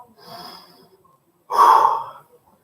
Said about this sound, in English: Right, couple deep breaths.